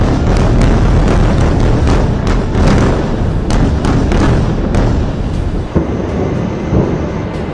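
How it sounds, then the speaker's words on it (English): A fierce bombardment in Beirut rumbles on as a constant loud wash of low booms and thuds, with repeated sharper blasts breaking through. No voices can be heard. "one of the fiercest bombardments in Beirut so far"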